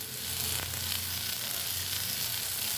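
Prawn fritters fry in hot oil with a dense, continuous sizzle that stays loud and even throughout.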